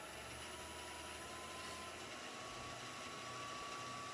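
Wood lathe spinning a Christmas tree bird box blank at about 1900 rpm gives a steady, faint motor hum with a soft whirring drone throughout.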